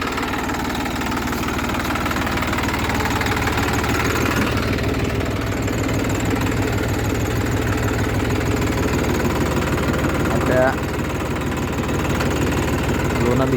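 A 4x4 tractor runs a Shaktiman rotavator through a banana field in low second gear, its engine droning loud and steady with a rough, knocking vibration that continues throughout.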